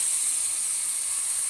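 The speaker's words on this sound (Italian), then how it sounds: "bello friggere per bene, senza coperchio, senza nulla" Ragù sauce fries uncovered in an open pan, giving a steady, even sizzling hiss that stays close and unbroken throughout, with no voices over it.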